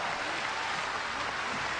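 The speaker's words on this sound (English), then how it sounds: "Crowd applauds, and that's good." A crowd at a UWF Bushido wrestling match claps steadily throughout, a dense, even wash of applause of constant loudness with no pauses.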